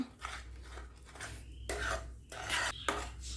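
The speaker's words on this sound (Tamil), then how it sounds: "இப்போ இது எல்லாத்தையும் சேர்த்து நல்லா மிக்ஸ் பண்ணிக்குவோம்" Gram flour halwa mixture stirred in a pan, a spoon scraping and clinking against the metal in uneven strokes with short pauses between, close and moderately loud with no talking.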